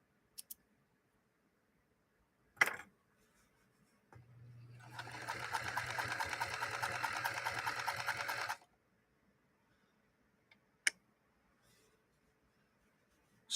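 A Singer Featherweight sewing machine stitches in one continuous run of about four seconds, a fast, even rattling buzz over a low motor hum, with a few sharp clicks before and after.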